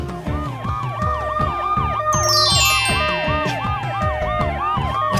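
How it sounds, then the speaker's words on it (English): A police car siren wails in a repeating up-and-down pattern, loud and close, with a second siren tone layered in and no talk over it. "I hear a siren."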